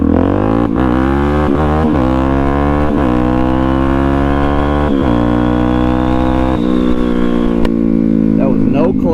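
A Suzuki DRZ400SM fitted with an FCR39 carburetor revs hard on throttle alone, no clutch, on a cold snowy day, its single-cylinder engine barking up and down in repeated loud pulls, close to the microphone.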